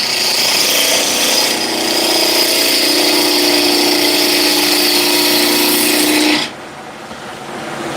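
A wood lathe spins a wood blank at 1800 RPM, giving a loud, steady whir with a sustained tone, then cuts out abruptly near the end to a quieter hum.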